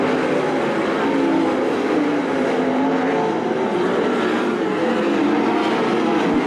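410 sprint cars racing at Attica Raceway Park during a heat race, a loud, steady engine roar filling the air without a break, heard from a distance as a dense, continuous drone.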